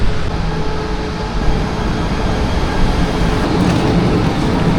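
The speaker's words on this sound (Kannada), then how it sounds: "ಬಂತು ನೋಡಿ ನಮ್ಮ ಟ್ರೈನ್." A train arrives at a station in Malaysia, a steady low rumble and hum of the rolling cars that stays loud and even throughout.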